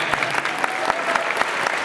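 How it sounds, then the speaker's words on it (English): An audience at a convention Q&A panel in Portland, Oregon bursts into loud, close applause with crisp individual claps audible through the dense crowd sound. "Round of applause for Jack."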